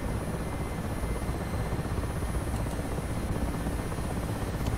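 Steady, loud rotor and turbine roar of a Mi-8 helicopter holding a hover in the DCS flight simulator, a continuous dense drone filling the whole stretch with no talk over it.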